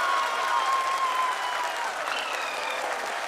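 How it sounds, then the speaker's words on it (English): Applause from a crowded room during the live telecast of the Chandrayaan-3 lunar lander soft-landing, steady dense clapping filling the whole moment with a faint tone sounding briefly early on. "People are applauding."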